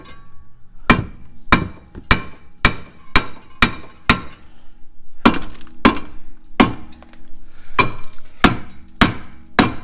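A hammer strikes a brake part on a 2021 Kia Soul again and again, a dozen or so loud, sharp metallic whacks close by, coming in a steady rhythm with a short pause midway.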